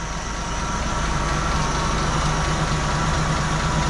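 A Jeep CJ7 engine with a newly fitted carburetor idles steadily at about 600 rpm, a loud, even low rumble with a regular pulse that runs unbroken throughout.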